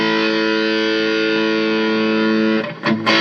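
An electric guitar chord rings through an Electro-Harmonix East River Drive overdrive pedal, a sustained gritty, mildly distorted tone that holds steadily before a few short picked stabs at the end.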